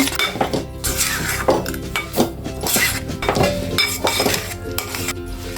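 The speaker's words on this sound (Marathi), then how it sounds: "आता ह्या पाकामध्ये तिळी शेंगदाणे खोबरं भाजलेलं आहे ते घालून घ्यायचं आणि लगेचच मिक्स करून घ्यायचं" Roasted sesame, peanuts and coconut are stirred into jaggery syrup in a kadhai for til laddu, with continuous loud spoon scraping and clinking against the pan close by.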